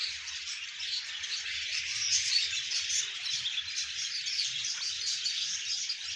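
Caged parrots in a family park in Rawalpindi keep up a dense, continuous chatter of high chirps and squawks, fairly close, with a faint low rumble of background noise underneath.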